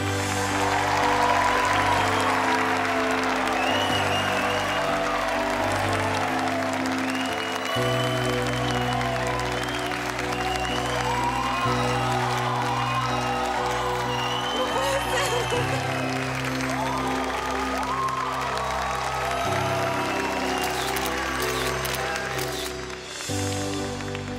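Audience applause for a cumbia singer at a televised show: sustained dense clapping and crowd noise over loud band music throughout, with steady bass and keyboard chords.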